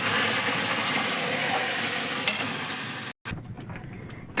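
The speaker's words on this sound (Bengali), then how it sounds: "একটু কমিয়ে দিয়ে ভীষণ ফুটছে জানো।" Roasted semolina simmers in boiling milk in a pan with a continuous close bubbling hiss, then a sharp cut and a quieter stretch with soft stirring.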